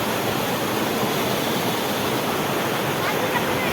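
Strong current of the Shiv Khola stream near Siliguri rushes at low water, a steady dense roar of moving water filling the whole moment without a break.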